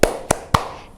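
Children at a Sunday school service clap along to a clapping song, three distinct sharp claps in an even rhythm, close and clear, then silence.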